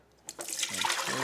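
Steeped liquid for papadzules being strained, a splash followed by a steady pouring, trickling flow that builds and holds, close and fairly loud.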